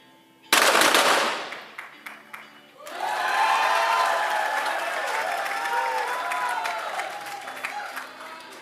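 Spectators at a women's 25m pistol ISSF World Cup in Bhopal, India, burst into loud applause and cheering after a hit, following a sharp bang; the clapping surges, then settles into a sustained, dense ovation.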